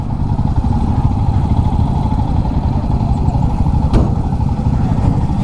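Motorcycles on the mountain road to Spiti, near a cliff-top viewpoint, with a steady loud engine drone running throughout and a brief sharp transient near the end.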